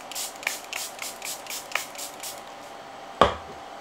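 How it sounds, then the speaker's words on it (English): Charlotte Tilbury setting spray misted several times in quick succession, a rhythmic series of soft hissing puffs, close and fairly quiet, followed by a sharper click or tap near the end. "Charlotte Tilbury setting spray."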